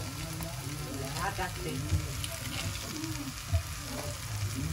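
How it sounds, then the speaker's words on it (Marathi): Garam masala powder being fried and stirred in a pan for paneer bhurji, a soft sizzle with scraping stir strokes and a couple of louder knocks, moderately quiet and close. "गरम मसाला पावडर टाक आणि हे गरम मसाला पावडर जरा परतून घे."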